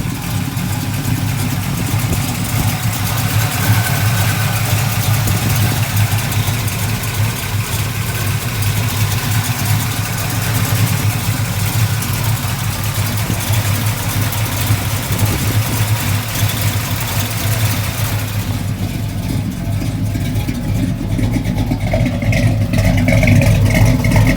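A 1965 Ford Custom Cab truck engine idles with a steady, loud, low rumble that holds unchanged from start to end, with no voices over it.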